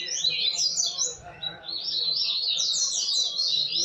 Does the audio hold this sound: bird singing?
yes